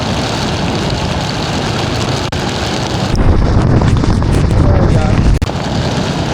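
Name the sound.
strong wind blowing while riding a motorcycle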